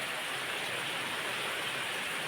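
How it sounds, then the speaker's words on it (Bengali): Steady rain falls over an outdoor cooking spot with wet firewood, a dense, even hiss of drops close by that never lets up. "আর বৃষ্টিটা এমন টাইমে এসে থামছেও না"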